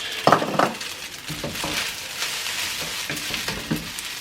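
Eggs frying in a pan for Singapore noodles, a light sizzle under sharp clinks and scrapes of a utensil against the pan near the start, then softer intermittent stirring sounds.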